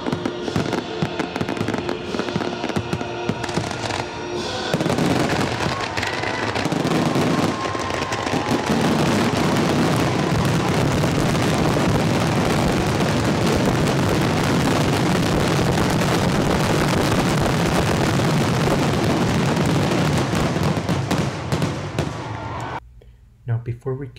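Fireworks shells fired from barges over the lagoon at Epcot during a July 4th show, a dense, continuous roar of launches and bursts that stays loud and crackling for most of the stretch before dropping off near the end.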